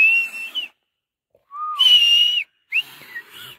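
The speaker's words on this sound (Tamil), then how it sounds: "விசில் அடி அந்த இருக்கான் இவரு." A whistle is blown outdoors by a river in three sharp, loud, shrill blasts separated by short silences, with nobody talking.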